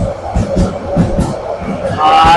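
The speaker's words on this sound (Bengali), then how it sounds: "ট্রেন যাচ্ছে" A train rumbles past overhead at Dohazari railway station, Chandanaish, Chattogram, with a rhythmic clatter of wheels, while a murmur of voices carries underneath.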